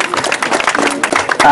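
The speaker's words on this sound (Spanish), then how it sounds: "Un fuerte aplauso, por favor" Loud, dense clapping from a crowd at a public ceremony handing over musical instruments and a vehicle to the town of Paucar, a rapid patter with voices mixed in.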